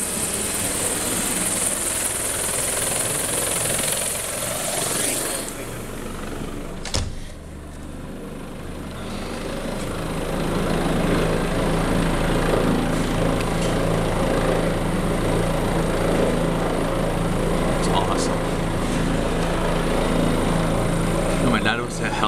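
Rotor and engine roar of a rescue helicopter, a steady loud drone that fills the whole stretch, briefly dipping around the middle before returning strong, with no clear speech over it.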